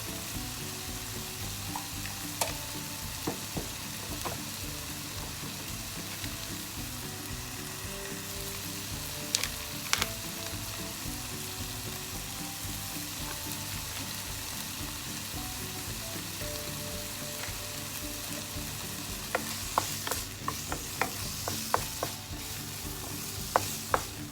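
Chicken pieces and onions sizzle steadily in a hot frying pan with salt and pepper, a constant close crackle broken by the occasional scrape and clink of a spatula stirring.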